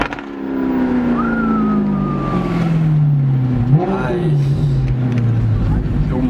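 Custom car driving along and accelerating, engine tone sweeping down and back up between gear changes, steady and close from inside the cabin, with people talking over it.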